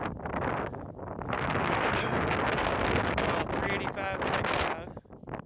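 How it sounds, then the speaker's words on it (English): Strong gusty wind buffets the microphone on the open summit of Little Hump Mountain on the Appalachian Trail, roaring loudly and unevenly with brief lulls. "It's very windy, in case you can't tell."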